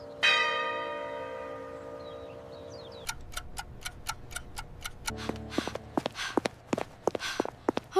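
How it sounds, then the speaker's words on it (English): A school morning bell rings once, loud and close with a long ringing decay, then quick footsteps tap along in an irregular patter. "The morning bell is ringing, and school is about to start."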